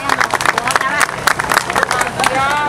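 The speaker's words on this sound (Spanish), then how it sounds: "Y un fuerte aplauso para los niños." Audience applause for a group of schoolchildren from a school at a community event, scattered clapping mixed with crowd chatter and voices, moderately loud and steady throughout.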